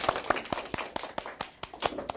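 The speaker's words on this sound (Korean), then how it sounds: "박수로 시작해보죠." A class of students applauds together at the start of a lesson, a burst of scattered, overlapping hand claps that rises and falls over about two seconds in an indoor classroom.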